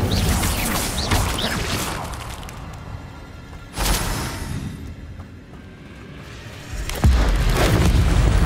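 A fire spell cast in Hogwarts Legacy: rumbling whooshes and booming bursts of flame, with a sharp flare near the middle and another strong burst toward the end over continuous game ambience.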